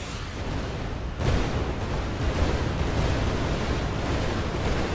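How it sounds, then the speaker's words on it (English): Explosions in the space tactics video game Starfall Tactics, a sudden deep boom that swells into a sustained, rumbling roar lasting several seconds, loud and dense with no speech over it. "So if we let explosions go past, I can speak again."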